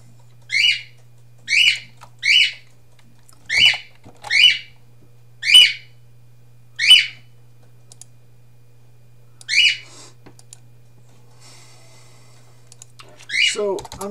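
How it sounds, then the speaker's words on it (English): A pet bird whistling in short repeated bright bursts, about eight calls spaced a second or more apart, then a harsher squawk at the end, indoors over a steady low hum. "Shut up, bird."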